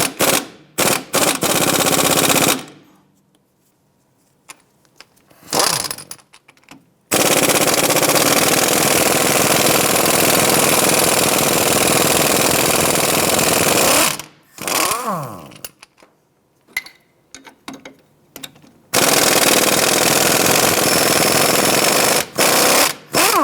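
Strut bolts on a 2001-2007 Ford Escape being removed with an 18mm socket, driven by a loud, sustained power tool whine in several long bursts separated by short pauses and metallic clanks.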